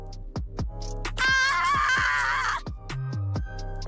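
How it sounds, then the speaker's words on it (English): A woman in the video game Date Everything screams with excitement in a long, high, wavering shriek lasting over a second, framed by short voiced yelps and giggly sounds. "I don't want to hear her scream with excitement anymore"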